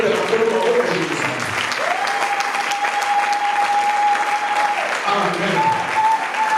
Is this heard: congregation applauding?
yes